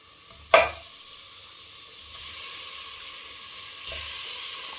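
Mutton frying in a pan with tomato, a sharp sizzling burst as the meat hits the hot oil, then a steady soft hiss with faint stirring scrapes.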